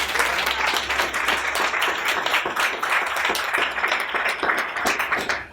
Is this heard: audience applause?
yes